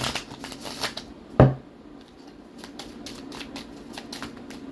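Oracle cards being shuffled by hand, with a soft papery riffle and a sharper snap of cards near the start, followed by lighter flicking and sliding sounds at close range.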